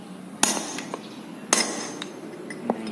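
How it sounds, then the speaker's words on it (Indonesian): A hammer strikes a chisel to drive out the front wheel bearing cone of a Proton Saga, giving sharp metallic clanks: two loud hits and several lighter taps spaced across a quiet workshop background. "Oke, kita keluarkan bearing kon tuh dengan pahat ya."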